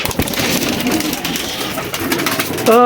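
Pigeons coo in a loft where a male and female pair are kept, a steady warbling of bird calls filling the space, with a clear rolling coo rising near the end.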